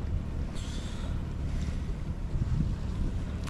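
Wind at sea aboard a sailboat making slow headway, a steady low rush with buffeting against the microphone and faint water movement around the hull, without voices.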